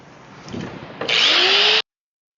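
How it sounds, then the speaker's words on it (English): An angle grinder cuts through screws on a stainless steel tankless water heater being scrapped: a scraping lead-in, then a loud, bright, steady whine for under a second that stops abruptly. "I love that he's using the grinder to be able to cut some of the screws instead of taking each of them off"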